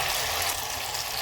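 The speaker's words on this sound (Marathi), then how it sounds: "आता आपण ही वडी तयार केलेली याच्यात टाकून अशी काढून आपल्याला तेलामध्ये सोडायची" Pieces of wheat-flour dough fry in hot oil, a loud, close, steady hiss and crackle of sizzling throughout.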